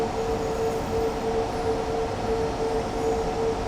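A BR 185 electric locomotive running through a snowy landscape in Train Sim World 5 gives a steady, continuous rumble with a faint sustained tone on top, even in loudness throughout and with no voices.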